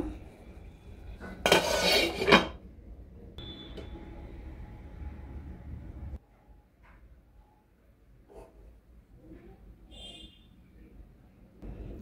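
A lid set down on a pot holding rice and water for basanti pulao, a short loud metallic clatter near the start, then quiet kitchen background with a few faint clinks.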